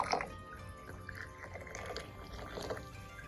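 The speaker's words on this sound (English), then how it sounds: "We're gonna rinse the cup" Boiling water is poured to rinse a small tea cup for Chinese tea, giving a faint, close trickle and splash with light drips over a few seconds.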